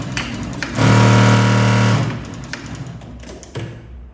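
A Mauser Spezial industrial sewing machine runs a back tack in one loud, close burst of rapid stitching lasting about a second, followed by softer taps and thumps from the machine.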